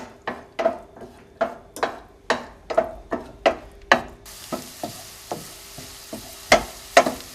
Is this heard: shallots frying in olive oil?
yes